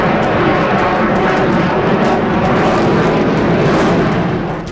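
A Rafale fighter jet of the Indian Air Force flies past with a loud, continuous roaring rush that holds steady for several seconds before easing off slightly at the end.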